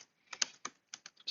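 Typing on a computer keyboard, a handful of sharp, uneven key clicks in quick bursts, close and fairly quiet with no voices.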